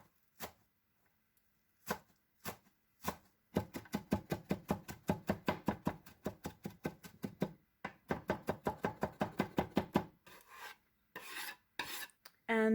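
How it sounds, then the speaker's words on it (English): A knife chops coriander rapidly and rhythmically on a cutting board, bursts of quick even strokes separated by short pauses, close and clear. "which I give a quick rinse before I start chopping as finely as possible"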